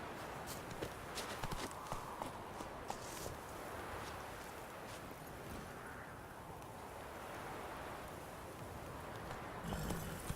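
Horse hooves clip-clop in a steady rhythm as a rider travels in The Witcher 3 video game, a faint, continuous gait under a light background hiss.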